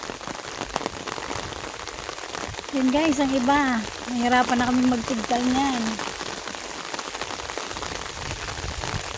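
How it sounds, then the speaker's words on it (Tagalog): Steady rain patters on surfaces throughout at an outdoor coconut copra-making site, a dense hiss of drops, while a person talks briefly in the middle. "ang hirap po pag inaabot ng ulan ayan ulan na na"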